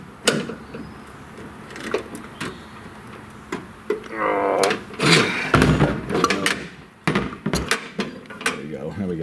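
A welded metal piece for a rain barrel valve being bent, with loud clanks, knocks and a creaking, straining stretch in the middle, under a man's speech.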